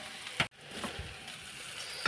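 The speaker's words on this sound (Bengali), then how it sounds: "চলো এর মধ্যে এবার আমি চিকেনটা আর ডিমটা দিয়ে দেবো।" Chicken and egg hit the hot pan of frying egg chicken chow mein, giving a steady close sizzle with a short clatter near the start and another at the end.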